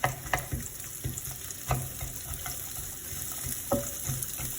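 Cut onion fries in hot oil with a soft, steady crackle, punctuated by several sharp stirring knocks and scrapes at irregular intervals.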